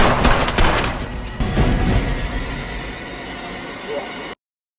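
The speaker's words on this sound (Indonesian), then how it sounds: "Derek mengejarnya dan berusaha menembaknya dari jarak jauh." Gunfire in a film as a man shoots from long range at a fleeing woman toward a forest, several loud sharp bursts early on, then a rumbling noisy tail.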